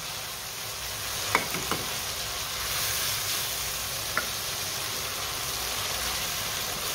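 Chilli garlic ketchup sauce sizzles steadily in a pan as it is stirred, a soft continuous frying hiss with a few brief utensil clicks and no talking.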